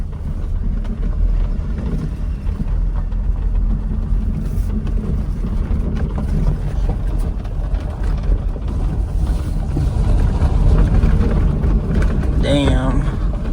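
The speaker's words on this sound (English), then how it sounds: "Let me drive this one so we could just move it." A manual-clutch car being driven, giving a steady loud rumble of engine and road noise with wind buffeting throughout and brief faint chatter near the end.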